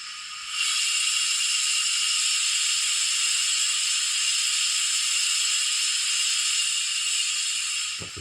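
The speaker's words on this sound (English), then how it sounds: "That's the cylinder cock." Cylinder cock steam hiss from a Hornby B12 model locomotive's DCC sound decoder: a steady, broad rushing hiss that starts abruptly and holds evenly for about seven seconds before cutting off, heard alone over a faint low hum.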